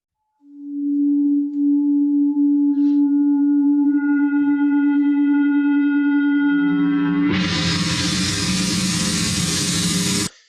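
A synthetic nonlinear vibration begins as a steady pure low tone with faint overtones gradually building, then abruptly blooms into a loud, bright, shimmering cymbal-like wash of noise that sustains to the end.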